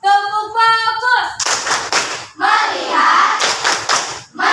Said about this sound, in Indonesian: Tepuk bagus.